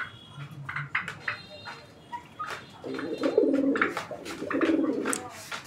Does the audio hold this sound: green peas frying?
no